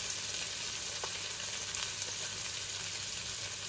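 Eggplant pork rolls in teriyaki frying in a pan at home, a steady moderate sizzle with soft crackles throughout and no talking.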